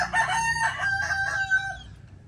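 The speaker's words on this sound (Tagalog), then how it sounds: "Ito yung mga chicken." A rooster crows in a long drawn-out call close by, with hens clucking under it on a farm property in Calabanga, Philippines.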